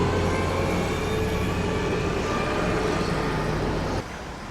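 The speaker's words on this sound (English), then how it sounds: "got another bus coming out" A bus pulls out on a street in Magaluf, Majorca, a steady, loud engine-and-road rumble filling the scene until it drops abruptly near the end, with no one speaking.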